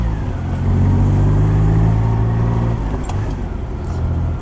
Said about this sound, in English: going into second when cold, still grinds